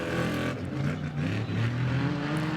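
A Honda Ridgeline truck with a twin-turbo V6 roars through an off-road desert race, its engine note climbing and holding close and loud, with a steady, gritty rumble.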